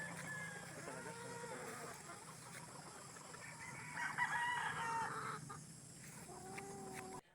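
Young roosters (stags) tethered in a cording area crow and cluck, several drawn-out crows at mid distance among farm background noise.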